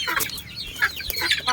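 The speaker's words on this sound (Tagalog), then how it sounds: "Napakakulit ng mga manok." Chickens cluck on a chicken farm, several birds close by making short, overlapping clucks and squawks in quick irregular bursts.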